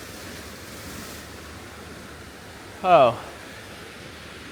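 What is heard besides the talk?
ocean waves on the California coast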